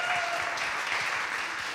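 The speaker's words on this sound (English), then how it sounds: "Round of applause, yeah." Applause from a gathered audience after a speech at a Norwich City local media season preview, a steady, dense patter of clapping sustained throughout at moderate loudness with no voices over it.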